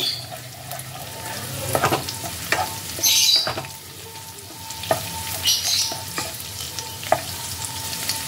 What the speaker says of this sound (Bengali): কাঁচা লঙ্কাটা তেলের মধ্যে দিয়ে আবারও খানিকক্ষণ একটু নাড়াচাড়া করে নেব।